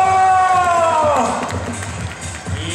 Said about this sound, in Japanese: おーという歓声を初めて見たすごい技という体でよろしくお願いいたします。